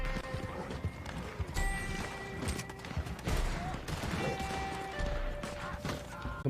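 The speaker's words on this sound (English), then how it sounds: "Who left a horse right in the middle of there?" Horse hooves clip-clop steadily across the ground in the Red Dead Online video game, mixed with distant gunfire pops and game ambience, with no one talking.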